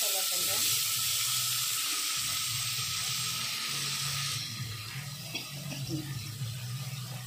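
Tomatoes hit a hot pan of fried onions for a ridge gourd curry, setting off a loud, dense sizzle that hisses steadily and then eases into a softer, uneven crackle.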